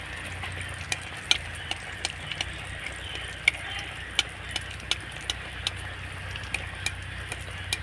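Phul pithe, flower-shaped rice flour cakes, frying in hot oil: a soft steady sizzle broken by frequent sharp crackles and pops, fairly quiet and close.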